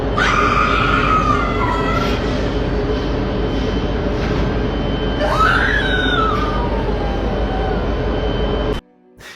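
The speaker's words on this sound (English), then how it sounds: "Yup, that's definitely a woman screaming." A woman screams twice at night at a port, loud wavering wails rising over a steady low industrial rumble. The recording cuts off abruptly near the end.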